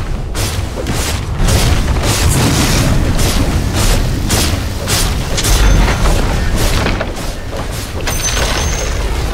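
A Dota 2 enemy tower collapsing: a loud, close, rumbling crash with grinding debris and repeated heavy impacts rolling on for several seconds, without talk.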